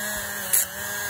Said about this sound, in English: I love these Dremel bits because you can get down over these little fins, get into all the little nooks and crannies.